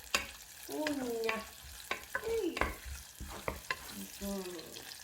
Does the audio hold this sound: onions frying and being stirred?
yes